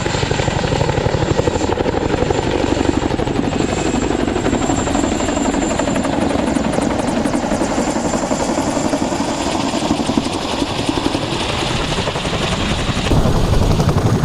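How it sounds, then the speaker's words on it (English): A CH-47 Chinook helicopter approaches, its heavy rotor thumping and engine roar filling the air continuously, loud and close, with a steady pulsing beat throughout. "Here's the CH-47, the Chinook coming in"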